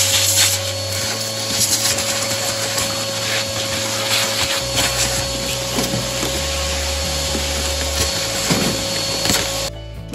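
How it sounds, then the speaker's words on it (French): A vacuum cleaner sucks up drilling debris on a Honda CRF450R supermoto while fitting a chain guide, with a loud steady whine and motor drone whose pitch shifts as the nozzle moves, cutting off near the end. "on va venir aspirer"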